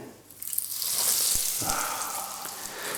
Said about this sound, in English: I'm going to pop those in the pan. I'm only going to do 2 at a time, because I've got a small pan, means you use less oil